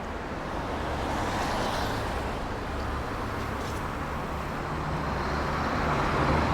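A Toyota Yaris Gen2 car backs up on a road at night, its engine a steady, even rumble mixed with broad traffic noise that holds at the same level throughout, with no speech.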